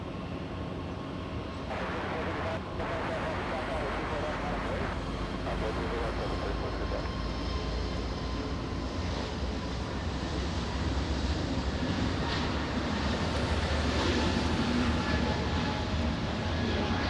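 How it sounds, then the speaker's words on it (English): An Asiana Airbus A380 airliner approaching to land at LAX gives a low, steady, moderately distant engine rumble that builds gradually, with voices talking over it. "Time for the A380 to touch down."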